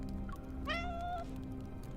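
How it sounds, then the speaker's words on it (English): A thin, trembling kitten gives a single clear, high meow while being fed fish, faint and close against a quiet room hum. "A thin, trembling kitten emerges from the corner and eats happily."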